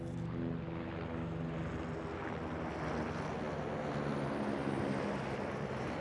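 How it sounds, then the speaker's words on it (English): A sheriff's helicopter passes during an outdoor cricket match, a steady broad rotor and engine roar holding level throughout, distant but continuous, with no talking. "Helicopter absolutely razzing its way past us"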